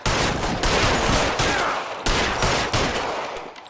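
Gunfire in a shootout in the L.A. Noire video game, loud, rapid volleys of shots in dense bursts, with a brief pause near the middle before the firing resumes and then tails off.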